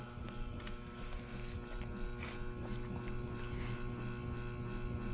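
A wood stove steam engine running, drawing air through its intake as a steady, buzzing mechanical drone with a faint airy rush, continuous and close, with no talk.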